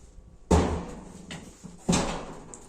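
A small bathroom door in a rental flat is handled, giving two solid knocks or thuds about a second and a half apart, each with a short ringing decay, close by in a quiet room.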